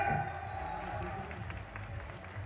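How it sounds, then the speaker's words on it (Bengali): An audience at the Haripal Mela 2024 live show gives a big round of applause, a dense, steady wash of clapping from a large crowd under an amplified voice. "হরিপালের সব দর্শকের জন্য একটা বড় হাততালি হয়েছে।"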